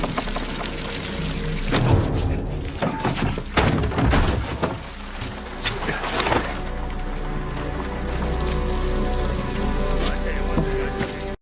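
Heavy rain pours down steadily, with dense close spatter and scattered sharper drops and knocks against surfaces, holding loud for the whole stretch, with no speech on top.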